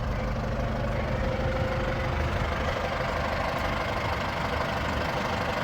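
A Case 995XL four-wheel-drive tractor fitted with a loader sits idling, its diesel engine giving a steady, close, continuous low rumble with a faint knocking texture and no voices.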